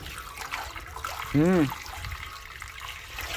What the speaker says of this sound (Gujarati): આટલું પાણી આવે જુઓ